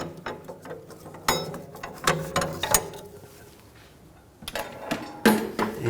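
Ratcheting clicks from a torque wrench tightening rear brake caliper bolts on a 2007-2013 BMW 328i, coming in short close bursts separated by quieter pauses.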